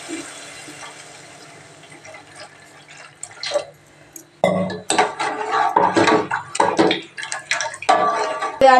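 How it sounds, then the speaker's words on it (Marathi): Water poured into a pan of roasted masala for fish curry, starting with quiet dripping and clinks, then a louder splashing pour with pan clatter near the end. "मी थोडं पाणी ओतून घेते।"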